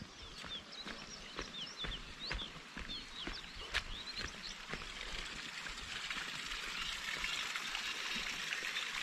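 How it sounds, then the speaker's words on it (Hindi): Irrigation water leaks out of a field channel and trickles and gurgles steadily close by, with bright birdsong chirping over it and a few faint knocks and taps. "पानी यहाँ से लीकेज हो रहा है"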